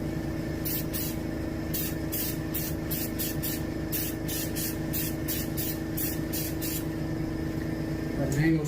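Repeated short bursts of spray can hiss in quick succession while mounting a striped bass, over a steady low mechanical hum, fairly quiet and close.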